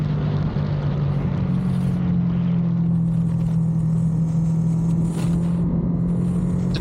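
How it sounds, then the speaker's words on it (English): A Ducati Monster 937 motorcycle riding on a road, heard as a steady droning engine tone with strong wind rumble, constant and loud throughout. "I'm just going to stop talking and ride a little bit and check out what this bike can do"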